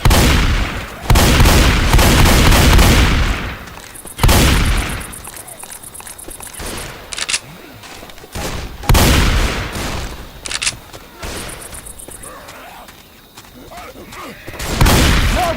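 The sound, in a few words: gunfire from a video game, Left 4 Dead 2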